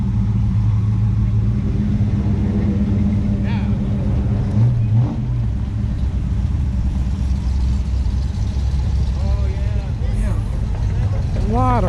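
A Camaro Z28 at an American Legion car show in Bellville, Ohio labors up a hill with a deep, rumbling, sustained engine note, loud and near, while people talk over it.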